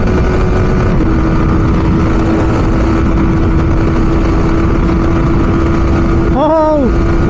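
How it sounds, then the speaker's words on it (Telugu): A motorcycle engine drones loudly at high speed during a drag race between a Bajaj NS200 and Yamaha R15 M bikes in the rain, a constant roaring hum mixed with heavy wind noise. "ఈసారి బైక్ చాలా టాప్ స్పీడ్లోకి వెళ్ళిపోతుంది"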